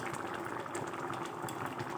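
Potato curry (alur dom) bubbles in a pot at a steady rolling boil, close and continuous with dense popping, and no talking.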